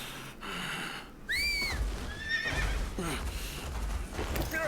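A horse in a video game lets out rising, wavering neighs over the clatter of hooves, with several whinnies and a snort-like breath near and clear against a low rumbling background.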